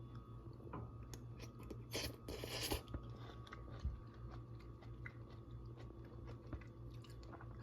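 Someone bites and chews fermented and chopped cucumber with sautéed canned jack mackerel, giving soft, close crunches that cluster early and then settle into quieter, wet chewing.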